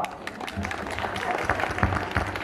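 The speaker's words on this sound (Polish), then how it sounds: "Więc poproszę im o brawa" An audience at a chicken festival in Sokółka, Poland, applauds preschool children, with scattered hand claps breaking through while people talk in the foreground.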